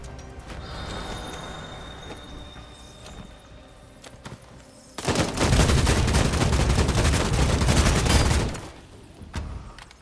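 Gunfire in the fast-paced video game Bloodhunt: scattered shots early, then a dense, loud sustained burst of rapid fire lasting several seconds before trailing off into a few more shots.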